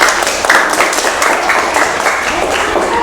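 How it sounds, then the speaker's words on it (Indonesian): A classroom audience claps for a student group, a loud, steady burst of applause from many hands that lasts a few seconds. "Boleh tepuk tangan untuk kelompok 4"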